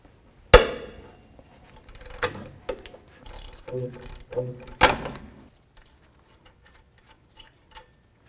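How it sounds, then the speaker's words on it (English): Ratchet with a 22 mm socket working the top ball joint nut on a 1984-2001 Jeep Cherokee gives a few sharp metallic clacks and short bursts of clicking, separated by quiet gaps, close and fairly faint. "22 millimeter socket. We're gonna take the top ball joint nut right off."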